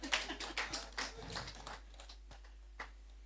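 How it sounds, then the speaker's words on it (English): Scattered clapping from an audience at an annual general meeting, a few uneven claps that thin out to isolated taps, fairly faint. "So let's give him a clap for that."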